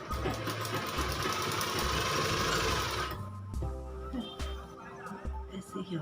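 A sewing machine stitches a ladies' shirt, a fast buzzing run for about three seconds followed by slower, intermittent low thumps as the fabric is eased around a curve; a voice talks in the background.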